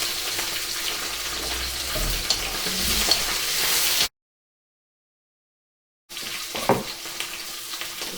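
Pak choy and baby corn stir-frying in a hot pan alongside mushrooms, a steady loud sizzle with stirring scrapes, broken by a couple of seconds of dead silence before the frying resumes.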